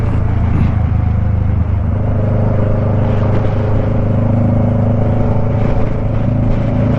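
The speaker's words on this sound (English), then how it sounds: "Good old Houston traffic." Houston road traffic heard from inside a moving car: a steady, loud, low engine and road rumble with tyre noise, continuous and unbroken throughout.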